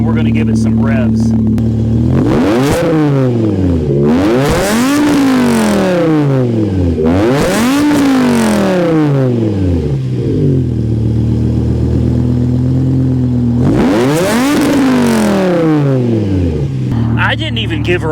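A BMW M5 V10 engine revs hard three times, each surge climbing to a high scream before dropping back to a rumbling idle.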